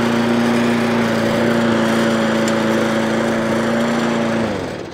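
Repaired lawn mower engine running at a steady high idle, loud and close, with a constant droning hum that holds for several seconds before it begins to wind down at the end.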